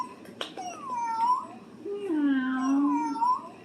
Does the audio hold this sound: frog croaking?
no